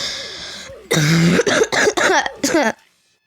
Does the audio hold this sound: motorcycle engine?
no